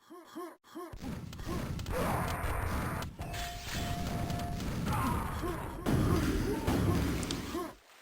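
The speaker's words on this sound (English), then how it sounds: "Big booms going off all the time on this map." Explosions go off repeatedly on the QuakeWorld map E1M2 during a third-place playoff match, loud booming bursts that layer over constant game noise for several seconds.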